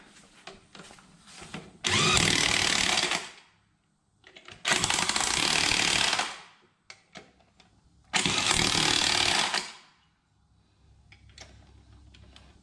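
Power tool tightening the tires on a 2016 EZGO RXV golf cart, three loud close whirring bursts of a couple of seconds each, separated by short pauses with faint handling noise.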